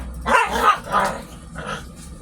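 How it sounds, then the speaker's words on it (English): Several quick, high yappy barks from puppies at play, coming in short uneven bursts nearby, with no speech. "those puppies have decided to start playing now that I've started talking"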